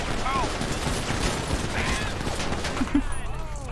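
Gunfire in a GTA V NoPixel roleplay shootout: rapid bursts of shots buried in a dense, noisy mix, with a couple of louder cracks near the end.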